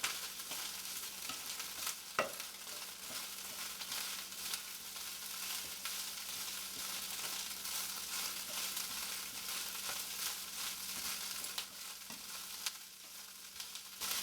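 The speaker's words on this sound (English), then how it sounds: "at this point you probably want to just continuously stir it till it's done" Ground beef frying in a pan gives a constant close sizzle while a utensil stirs it, adding occasional scrapes and small knocks against the pan throughout, with no talking.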